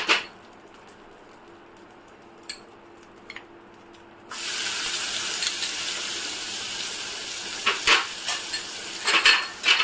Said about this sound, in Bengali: পেঁয়াজ বাটাটা একটু ভাজা ভাজা হোক।